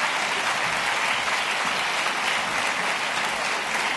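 Steady, sustained applause from a seated audience at a policy talk on nuclear nonproliferation sanctions, a dense even wash of many hands clapping at constant loudness throughout, with no voices on top.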